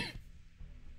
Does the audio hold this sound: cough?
yes